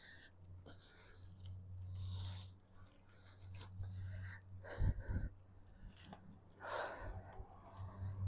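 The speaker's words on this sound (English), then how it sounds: "heavy breathing time" Heavy, labored breaths rise and fall close by over a low steady hum, with a few rustles and a louder puff midway.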